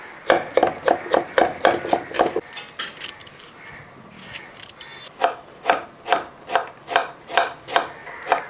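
Ginger finely chopped with a knife: a quick, even run of close knife strikes, a short quiet pause, then another steady series of about ten crisp chops, close and clear.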